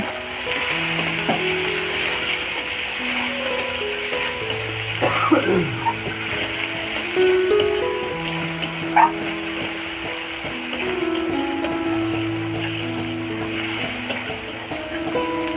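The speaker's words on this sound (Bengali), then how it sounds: "টমেটো আর পেঁয়াজ ভালো করে ভেজে নেব।" Chopped tomatoes and onions frying in hot oil in a pan for an egg curry, a steady close sizzle throughout with occasional scraping and clinks of a spoon stirring, no talking.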